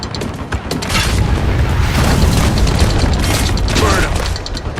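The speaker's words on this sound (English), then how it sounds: "Loading mortar." Mortar blasts in the video game Spec Ops: The Line, heavy booms and rumbling bursts with mechanical clatter, loud and close across the whole stretch.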